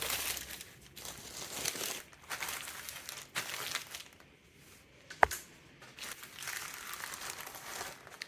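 Parchment paper wrapped around a partly frozen homemade sourdough pizza crinkles and rustles in bursts while being handled up close, with one sharp tap near the middle.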